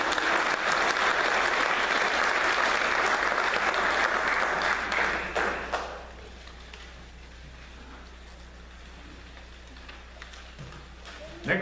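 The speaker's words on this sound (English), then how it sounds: "So let's give a nice round of applause." Sustained audience applause at a high school hall of fame induction ceremony, dense and steady for about six seconds before fading to quiet room tone.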